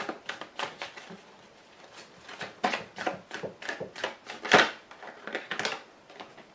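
A deck of cards is shuffled and cut for a tarot-style reading: a series of quick riffles and soft flicks, close up, with a sharper snap near the middle and no speech.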